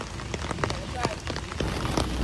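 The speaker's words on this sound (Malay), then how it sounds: "Hujan yang turun." Heavy rain pours down in Port Dickson, Malaysia, a steady close hiss broken by scattered louder drops and splatters on nearby surfaces.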